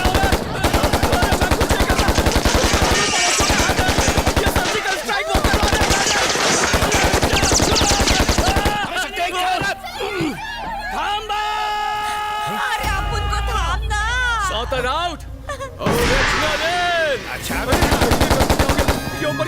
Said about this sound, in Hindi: कहाँ गोली चला रहा है?